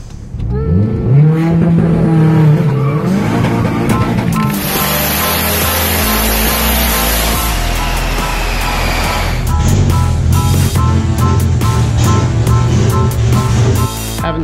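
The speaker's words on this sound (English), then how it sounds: "It's my new truck, Mitsubishi Mighty Max." 4G63-swapped Mitsubishi Mighty Max pickup with a turbo at about 19 psi, its engine loud and close, rising and falling through rough revs and a harsh, crackling burst mid-way before settling into a throbbing idle-like drone.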